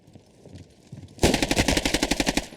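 SMG gunfire in an esports video game match bursts in as a rapid, evenly spaced run of loud shots, about a dozen in under two seconds, after a brief quieter stretch.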